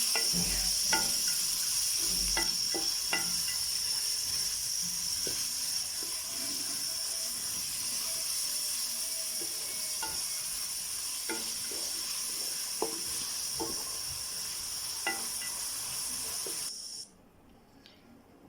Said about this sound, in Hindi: अब मैं इसमें डालूंगी चिकन कीमा, जो कि मैंने 1 पाव लिया है। इसको भी इसके अंदर अच्छी तरह फ्राई कर लूंगी।